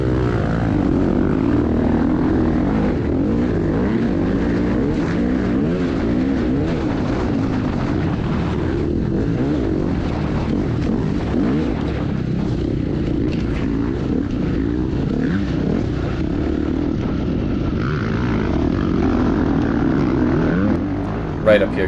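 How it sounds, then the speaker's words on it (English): A dirt bike races flat out over a whooped straightaway on a motocross track at Evansville, in the D6 class. The engine is close and loud, with a continuous buzzing roar that rises and falls as the throttle is held open. "You could hear his bike."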